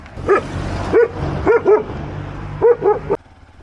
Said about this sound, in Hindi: शेफर्ड डॉग्स, गड्डी कुत्ते।